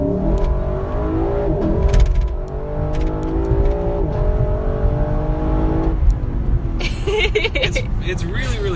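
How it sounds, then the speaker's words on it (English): A Lexus LC500 pulls hard at full throttle on a cold highway, its engine note climbing steadily toward redline with upshifts breaking the rise, loud and continuous from inside the car. "I really like that sound when it upshifts right at full throttle toward the red line."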